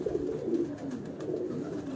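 Pigeons kept on a rooftop in Lahore coo in a low, steady murmur, the soft rolling calls overlapping continuously for a couple of seconds at close range with no talk.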